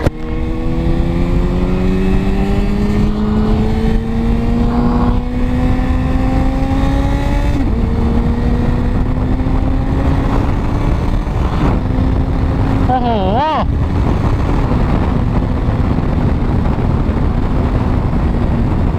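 Tuned Kawasaki ZX6R sport bike being ridden, its engine note rising steadily through the gears with brief dips at shifts, loud and close, with a rider speaking over the ride.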